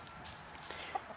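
Chickens cluck softly in a backyard flock with a rooster among the hens, brief faint calls over a steady outdoor background.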